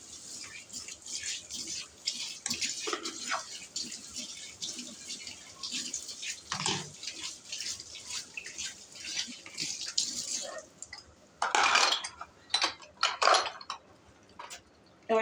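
Dishes clatter and clink under a running kitchen tap, with water splashing and trickling in uneven bursts, near and moderately loud, and a few louder rushes of water toward the end.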